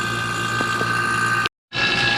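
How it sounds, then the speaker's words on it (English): A vacuum pump hooked to a VW Jetta's AC system during a compressor replacement runs with a steady mechanical whine and hum, cutting out briefly before resuming. "we can hear the vacuum running"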